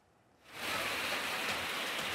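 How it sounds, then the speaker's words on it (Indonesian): Heavy rain driven by strong wind over a village in Kuala Batahan, Mandailing Natal, North Sumatra swells within half a second into a dense, steady roaring wash that stays loud to the end. "hujan lebat disertai angin kencang memporak-porandakan belasan rumah warga"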